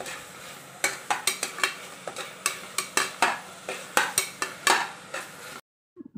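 Green chillies stirred into softened, frying tomatoes in a pan for a mushroom dum biryani, a spoon scraping in a steady run of sharp clinks and swishes over a low sizzle, ending abruptly; no talking.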